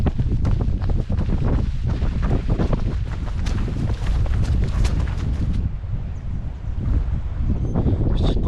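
Strong, steady wind with rain starting to fall buffets outdoors on an old railway-line trail, a broad rushing roar and scattered patter, loud throughout, no voices.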